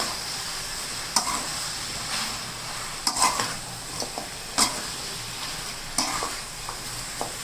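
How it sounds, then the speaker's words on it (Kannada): Chicken pepper dry fries on a low-to-medium flame while a spoon stirs it around the pan, giving a steady sizzle broken by several sharp scrapes and clinks against the metal. "ನೀಟಾಗಿ ತಳ ಹಿಡಿದಂಗೆ ಲೋ ಫ್ಲೇಮಲ್ಲಿ ಫ್ರೈ ಮಾಡ್ಕೋಬೇಕು"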